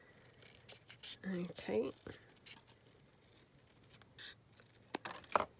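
Scissors snip paper while journal cards are cut out, a few close, crisp cuts and rustles mixed with quiet speech.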